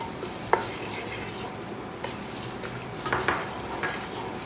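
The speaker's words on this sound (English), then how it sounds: "I'm adding in our onions." Onions stirred into a roux for a stew, a soft close sizzle with scattered spoon scrapes and light clicks against the pot, no talk.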